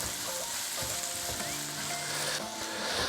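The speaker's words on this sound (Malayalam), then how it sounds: "ഇനി സവാള ഒന്ന് നന്നായിട്ട് മൂത്ത് വരുന്നത് വരെ ഇളക്കി കൊടുക്കുക" Onions fry in a pan for an egg roast, a loud, dense sizzle filling the scene while a spoon stirs and scrapes them continuously.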